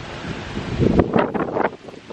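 Warm wind gusting outdoors in a beautiful open spot, a steady close rush buffeting the microphone and swelling into stronger gusts midway before easing.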